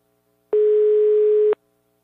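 On a prank phone call, a single telephone ringing tone sounds as one loud, steady electronic beep lasting about a second, alone and clean, with silence before and after.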